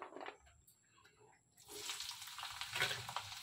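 Beans go into a hot pan and start frying: after a quiet opening with faint clatter, a loud wet sizzle bursts in and holds steady to the end.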